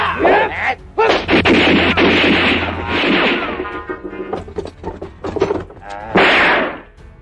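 Gunfire in an Indonesian martial-arts film set in the Dutch colonial era, a rapid series of loud bangs and sharp impacts fired at a bulletproof fighter, dense at first, then scattered, with a final burst.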